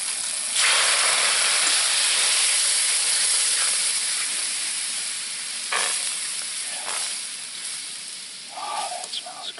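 Gravy frying in a pan at a remote riverside campsite gives a steady, loud sizzle that gradually eases, with a few sharp stirring scrapes near the end.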